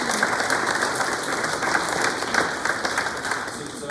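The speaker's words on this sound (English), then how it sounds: "Let's give them another round of applause." Steady crowd applause for vendors at a container park open house, sustained and fairly loud from start to finish with a constant background hum.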